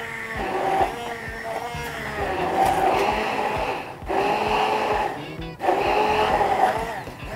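Kitchen blender whirring as it blends watermelon for a juice drink, a loud fluctuating motor drone that cuts out briefly twice before restarting.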